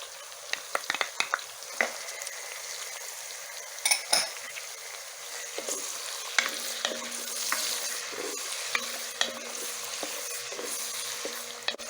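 Garlic pieces frying and being stirred in a pan, a soft steady sizzle broken by repeated clinks and scrapes of a utensil against the metal, close and fairly quiet.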